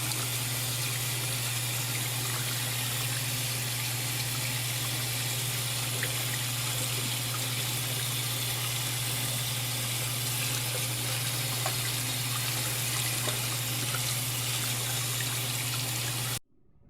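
Steady tap water runs into a sink while a carved relief printing block, inked green, is washed off between colour passes, a constant close hiss with a low hum beneath that stops abruptly at the end.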